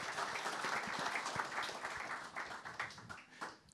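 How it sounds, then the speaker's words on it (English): An audience at a Meath National Hunt season launch applauds a lunchtime panel in a sustained round of clapping. Individual claps are audible in it, and the applause thins and fades toward the end. "So a big warm round of applause for our panel here on Meath Lunchtime"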